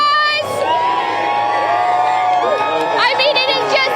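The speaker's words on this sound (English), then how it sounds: "Look at this crowd, guys." A large, dense crowd cheers and whoops at a Carolina Hurricanes Stanley Cup celebration at Smoky Hollow, a continuous roar with shouted voices rising over it and a fresh surge of cheers near the end.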